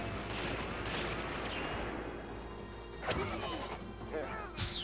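Explosions from blown-up barrels in the video game Oddworld: Stranger's Wrath, a dense rumbling burst followed by two sharper booms, loud and close against ongoing game noise.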